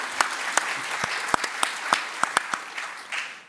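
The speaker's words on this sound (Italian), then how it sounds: "prima c'era un applauso partito, continuatelo" A medical congress audience keeps up a modest, loose applause, with individual sharp claps standing out over a softer bed of scattered clapping throughout the short stretch.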